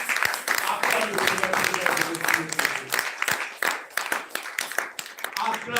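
A church congregation applauds and cheers to praise the Lord, with dense clapping running throughout, loud and close, mixed with crowd voices and shouting.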